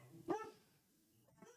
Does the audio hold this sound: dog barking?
yes